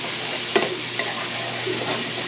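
Garlic sizzling in a pan for a breakfast casserole, a steady close frying hiss with a couple of brief utensil knocks.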